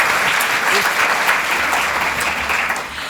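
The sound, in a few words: audience applause for speakers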